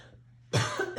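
A single sharp cough bursts out close to the microphone after a quiet moment, with a brief second hack at the end.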